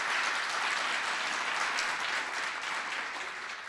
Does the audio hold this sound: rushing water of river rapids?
no